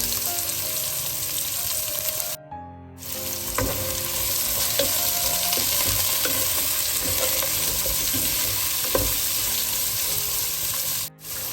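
Sliced onions fry in hot oil in a pan for paneer biryani, with a continuous close crackling sizzle and occasional stirring knocks, briefly cut by short dropouts.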